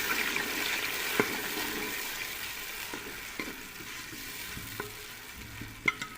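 Medium onion paste frying in hot ghee while being stirred, a steady close sizzle with scattered clinks of the spoon against the pan.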